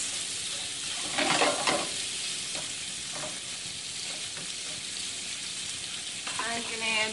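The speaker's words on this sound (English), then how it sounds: "Don't overcook the shrimp, okay? So you stir a couple times." Shrimp sizzle and fry in a hot pan while being stirred a couple of times, a steady crackling hiss with brief scraping stirs near the start and end.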